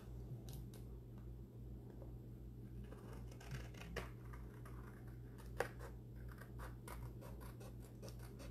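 Scissors snipping around a temporary tattoo on a cup, a run of small, quick close cuts and scratchy clicks over a low steady hum, quiet and unhurried.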